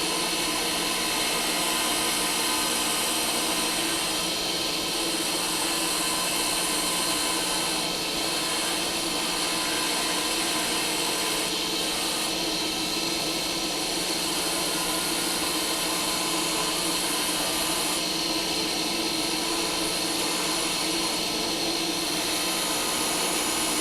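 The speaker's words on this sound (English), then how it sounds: "Now there's just a tiny little area where I can go in there and straighten it out with the grinder" An electric grinder runs continuously while smoothing glass mosaic pieces for a mirror, a loud, steady whirring whine with slight pitch dips every few seconds, heard alone throughout.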